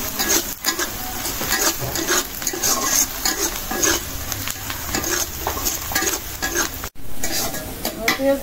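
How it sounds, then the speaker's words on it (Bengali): Sliced onions fry for beresta while being stirred in a pan, with constant sizzling and repeated scraping and clinking of a utensil against metal. One short gap occurs near the end, and no one speaks. "আমি এখন এই যে পেঁয়াজগুলি ভাজতে দেবো বেরেস্তা করার জন্য"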